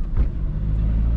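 Subaru car engine revving high, a steady loud low rumble close by that holds throughout with a slight surge near the start, no voices.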